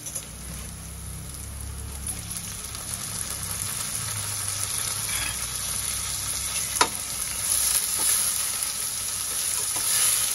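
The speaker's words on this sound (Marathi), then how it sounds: "आपला कांदा बघा लालसर झाला ना, आता आपण यावर टोमॅटो घालूया।" Tomatoes go into a pan of browned, sizzling fried onions, giving a steady, loud, close frying hiss with one brief sharp pop partway through and no voices.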